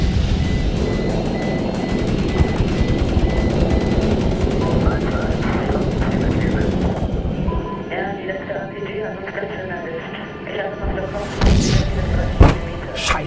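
Sustained machine gun fire rattles from a helicopter in the video game Medal of Honor, dense and continuous for several seconds before thinning into scattered bursts. Voices and other game sounds run underneath, with a few sharp louder bangs near the end.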